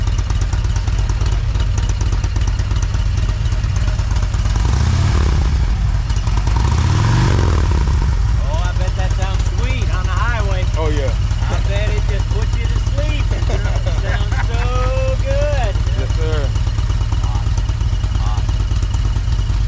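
A Harley-Davidson motorcycle in Charleston, South Carolina roars through two loud revs over a steady rumbling engine, then pulls away while people talk over the continuing engine noise.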